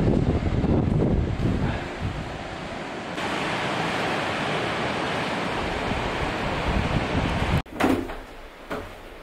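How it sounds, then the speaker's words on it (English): Wind buffets the microphone outdoors at an abandoned beach mansion, a steady, loud, rushing roar that eases near the end with a few scuffs and bumps; no one speaks. "it's gonna get a little windy"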